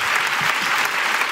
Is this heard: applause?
yes